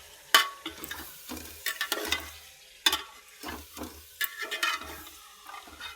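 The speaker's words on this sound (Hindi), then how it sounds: "जो इसका यखनी का पानी था बचा, ये डाल देंगे हम इसमें गोश्त।" Meat cooking in a pot after leftover yakhni stock is added, stirred with a spoon in repeated clanking scrapes over a soft sizzle, close and without talking.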